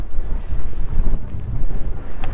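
Strong wind buffets the open deck of an Aquila 44 power catamaran, a loud, constant roaring rush with heavy low rumble across the whole stretch and no talk.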